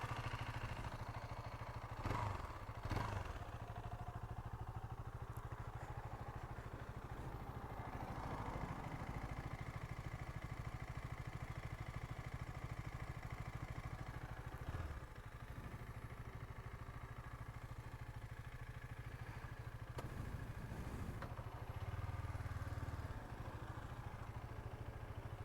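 A KTM Duke 250 motorcycle engine runs steadily at close range with an odd new noise in its idle, a continuous low rumble with slight rattling and no voices.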